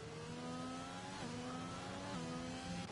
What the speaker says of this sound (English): his car's still going around though.